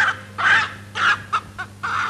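A chicken clucks in several quick bursts, loud and close, with short gaps between calls and a steady low hum underneath.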